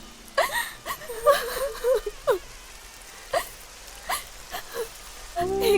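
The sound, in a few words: rain falling in a Hindi dubbed action movie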